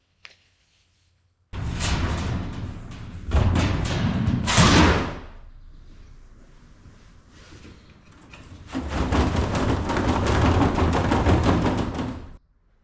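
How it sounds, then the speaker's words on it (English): A manual 3/8 inch rivet gun fastening aluminum flooring on a jon boat, heard as several loud bursts of rough crunching and grinding, with a quieter rubbing stretch between them. "I chose to go with a manual rivet gun, 3/8 inch, lots and lots of rivets."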